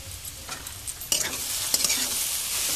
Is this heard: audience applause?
no